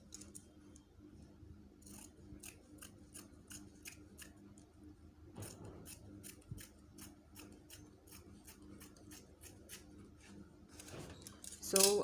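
Scissors cut through fabric folded on a table for a kimono robe, a quiet run of rhythmic crisp snips in two bursts, ending with a louder rustle of cloth.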